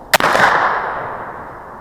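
A single sharp gunshot from a Lyman Model 1878 Sharps rifle with double set triggers, loud and close, followed by a long fading echo.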